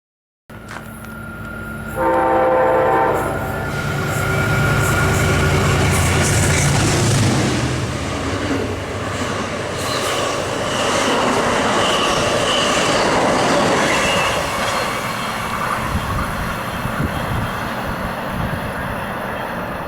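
A train horn blares up close as a train with a single locomotive rumbles past, the horn fading while the heavy rolling roar of the cars continues for a long stretch.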